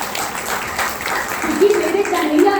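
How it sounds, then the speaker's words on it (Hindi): An audience at a devotional Bhagwat katha gathering claps together in a spread of scattered applause, with someone speaking over it. "तो आप सभी एक बार अपने लिए ताली बजा सकते हैं"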